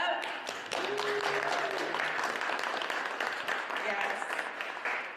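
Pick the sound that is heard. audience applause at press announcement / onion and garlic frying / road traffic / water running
audience applause at press announcement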